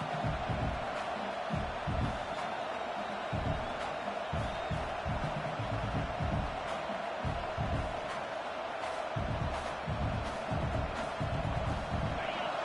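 A stadium crowd at an American football game roars as a steady, dense wall of noise throughout, with scattered cheers and no clear talk above it.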